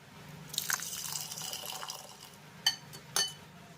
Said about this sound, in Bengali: মসুর ডালটাকে আমি প্রথমেই খুব ভালো করে ধুয়ে নেব